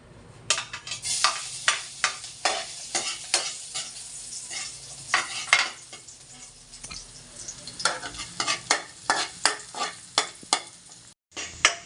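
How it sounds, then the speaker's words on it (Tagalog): Garlic, onion, ginger and chili sautéed in oil give a continuous sizzle, broken by rhythmic spatula scrapes and taps against the pan, close and fairly loud throughout. "Maglagay ng mantika. Igisa ang sibuyas, bawang, luya at sili."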